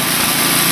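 A small go-kart engine runs steadily at a fairly high pitch, loud and close, with a faint roughness hinting at slight sputtering, and no voices.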